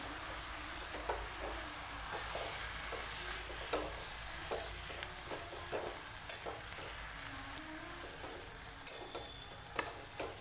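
Wild greens (pathri leaves) sautéed in a pan, with a quiet, steady sizzle and regular spoon taps and scrapes against the pan. No voices are heard.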